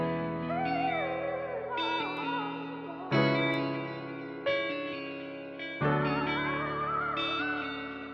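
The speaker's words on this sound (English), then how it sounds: "Next, we got this chill guitar preset from Flex." A mellow guitar-preset melody from the Flex synth in FL Studio, washed in reverb, plays sustained chords and a gliding lead line that swells with each new chord, steady and moderately quiet, with no talking.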